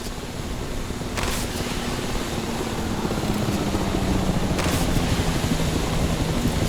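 A helicopter in the PEAK video game gives off a steady, loud rotor and engine drone with a low hum, holding constant throughout with no voices.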